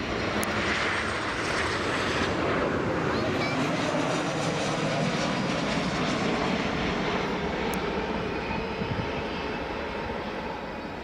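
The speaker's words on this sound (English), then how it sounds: "here comes the Jet2 coming in now. It's coming in from our left." A Jet2 airliner on approach to Leeds Bradford Airport passes from the left with a loud, sustained engine roar that stays strong throughout, with a voice talking faintly beneath it.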